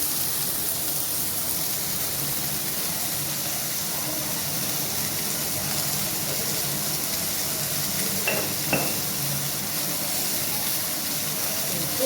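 Coriander and mint for chutney sauté in a pan with a steady, loud, close sizzling hiss that runs unbroken throughout, with a couple of brief stirring scrapes near the end.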